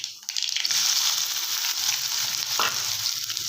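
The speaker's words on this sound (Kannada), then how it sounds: "ಹಾಗೆ ಕಟ್ ಮಾಡಿಕೊಂಡಿರುವ ಈರುಳ್ಳಿ ಹಾಕ್ಕೊಳ್ಳೋಣ" Chopped onion tossed into hot oil with mustard seeds and cumin, giving a loud, steady sizzle and crackle close by that continues throughout.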